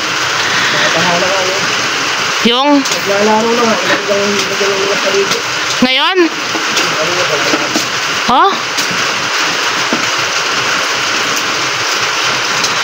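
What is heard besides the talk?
heavy rain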